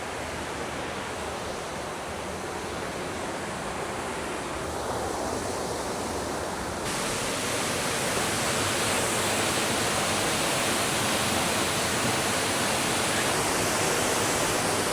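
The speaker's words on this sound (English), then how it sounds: "Oh my goodness, that waterfall's hustling." Rushing waterfall in the Catlins forest, a loud, steady roar of fast-flowing water that fills the whole scene continuously without pause.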